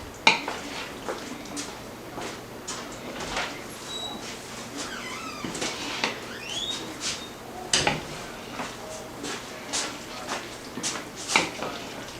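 Corned beef hash with potatoes being gently stirred in a pan: soft, scattered scrapes and light clinks of a utensil against the pan, quiet and close, with low kitchen background.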